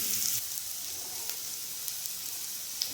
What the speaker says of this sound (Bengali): বিনস আর গাজর অনেকটাই ভাজা হয়ে গিয়েছে এখন ক্যাপসিকামগুলো দিয়ে দিলাম